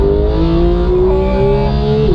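A Porsche GT3 drives hard out of a bend, its engine giving a loud, sustained tone whose pitch rises steadily, close up with no talking.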